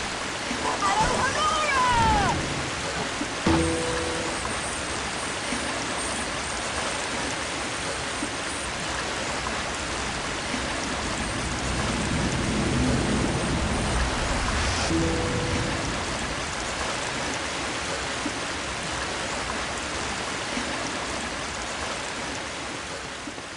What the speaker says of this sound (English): the waterfall was so loud